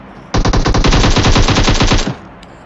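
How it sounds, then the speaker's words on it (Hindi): Automatic gunfire in the video game PUBG on the Vikendi map comes as one loud, rapid burst of about twenty evenly spaced shots. It lasts nearly two seconds and is followed by quiet. "शूट करने की कोशिश, मगर गोलियां क्लिफ पे लगने वाली हैं"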